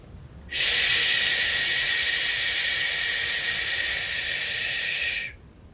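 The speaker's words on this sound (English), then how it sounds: "on your 8, you're going to make a shh sound" A single long, steady "shh" exhale during a breathing exercise hisses for about five seconds up close, starting abruptly and tapering off at the end.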